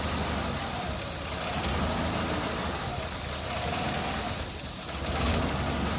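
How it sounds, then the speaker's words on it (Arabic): A car engine idling unevenly from a vacuum leak, with an irregular, rough rumble heard up close and steady hiss over it. "لاحظت المحرك كيف كان مش ثابت ويتحرك"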